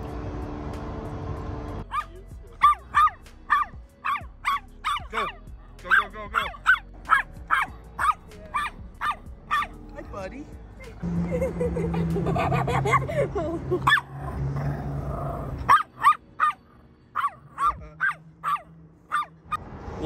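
Several dogs bark repeatedly at a dog park in Las Vegas, sharp close barks coming in rapid bursts with short pauses, plus a few yips, while voices murmur in the background midway through.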